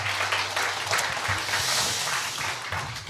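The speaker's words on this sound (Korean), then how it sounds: "다시 한번 큰 박수" A lecture audience at a philosophy forum applauds a speaker, a thick continuous patter of clapping with a low background hum, steady throughout and rising slightly at the very end.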